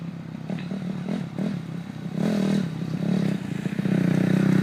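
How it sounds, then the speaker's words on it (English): A dirt bike rides past on a country property, its engine buzzing and revving as it nears, with clattering and scraping from the terrain, and it grows louder toward the end. "I'm just going to let this dirt bike go through."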